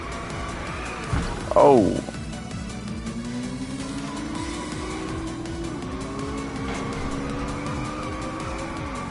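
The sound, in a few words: car drifting with tire squeal in video game Inertial Drift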